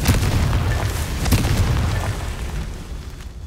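Confringo blast spell exploding in the Hogwarts Legacy video game, a loud, deep rumbling boom with crackling bursts that fades gradually over a few seconds, with no talking.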